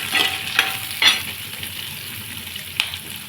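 Garlic and cumin seeds fry in hot oil in a pan with a continuous close sizzle, broken by a few sharp clicks of stirring. No one speaks.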